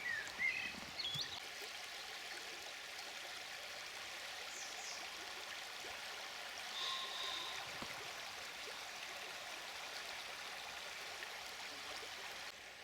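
A low, slow-moving river at seven in the morning gives a faint, steady trickling flow, quiet and distant, with no voices.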